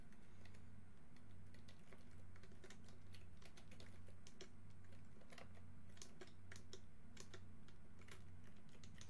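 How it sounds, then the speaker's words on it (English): Typing on a computer keyboard during a dragon game, a quiet stream of irregular key clicks over a low, steady pulsing hum. "you can also type on the game"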